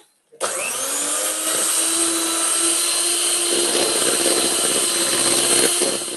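An electric mixer whipping cream for tiramisu starts after a moment of silence, then runs loud and steady with a high whirring motor tone that grows slightly harsher toward the end.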